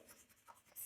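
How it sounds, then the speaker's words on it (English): A teacher writes on a board during a physics lesson, with soft, faint scratching strokes that end in a brief louder scrape. "Let me write the point."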